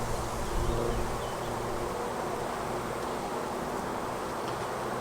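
Honeybees buzz around damaged poly hives, a soft continuous drone under outdoor background noise with no voices.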